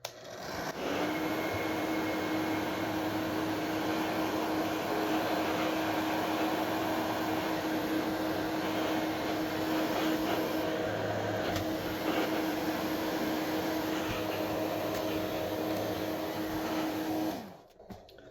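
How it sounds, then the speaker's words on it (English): A hair dryer runs continuously as it heats a game console shell to soften glue, a steady close whirring blow with a fixed motor whine, then cuts off near the end. "I'm going to take our hair dryer, heat this guy up, and see if we can go ahead and melt the glue a little bit"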